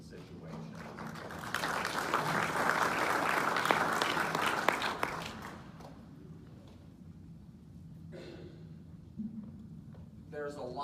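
Audience at a Minnesota 8th district Democratic candidates forum applauding, a dense burst of clapping that builds and holds for several seconds, then fades into room noise as a speaker begins talking.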